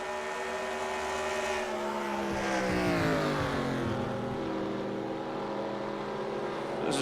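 Race cars in the eNASCAR Heat video game drone around the track, a steady engine whine sliding in pitch as cars pass, continuous and moderately loud with no talk.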